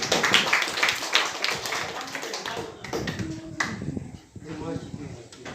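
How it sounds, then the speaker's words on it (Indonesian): A classroom group claps hands in a dense, lively burst at first, then the clapping thins to scattered claps while voices talk over it. "Tepuk tangan dulu kelompok 1."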